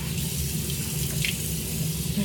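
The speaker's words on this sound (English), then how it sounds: "when I splash, the majority of the water gets in the sink." Water splashing on a face over a bathroom sink, with a continuous close rush of running tap water and faint splashes.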